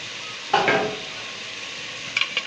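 A spoon scraping and stirring fish curry with rohu fish and peas in a pan, one loud scrape near the start followed by quieter sizzling and two small clinks near the end.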